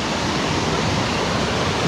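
A waterfall on a mountain trail in Pelion roars as a steady, dense, close rush of water that fills the whole clip with no voices.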